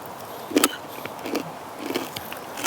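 A few crisp, crackly bites into crunchy pork rinds, eaten alongside spicy papaya salad with pork sausage, come close to the mic in short bursts separated by quiet pauses.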